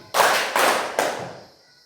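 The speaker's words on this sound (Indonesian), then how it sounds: "Tepuk 2 kali." A class of schoolchildren claps together in three loud, unison bursts, each a slightly ragged group clap that decays quickly before the next, with no talking.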